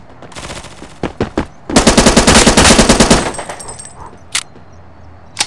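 Bursts of FAMAS rifle fire from the mobile shooter game Forward Assault, starting with a few single shots and then a dense, rapid automatic string of about a second and a half, followed by a couple of isolated shots, loud and close.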